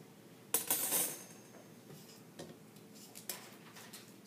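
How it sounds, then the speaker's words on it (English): A spatula scrapes powdered sugar down from the sides of a mixing bowl while strawberry buttercream frosting is made, heard as quiet close scrapes and light clinks against the bowl. "Scrape powdered sugar down off the sides there"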